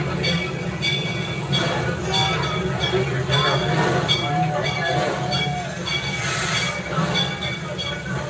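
A train rumbles steadily along the rails with occasional metallic squeals and clatter, continuous and fairly loud, with faint voices mixed in.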